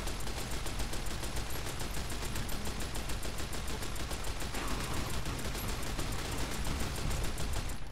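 A loud weapon in Fallout New Vegas fires as a continuous rapid-fire barrage, dense, harsh and sustained at high volume for several seconds without a break.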